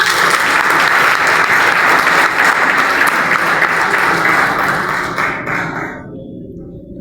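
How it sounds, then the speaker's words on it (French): Audience applause for Commissaire Madame Bateau after a speech on violence, a loud, steady wash of clapping that holds for several seconds, then thins and fades out near the end. "On nous applaudit une fois encore Madame Bateau qui est avec nous"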